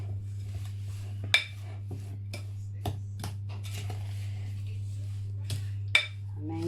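Brownie batter is mixed in a bowl with a utensil, making scattered clinks and taps against the side over a steady low hum, with a few sharper knocks.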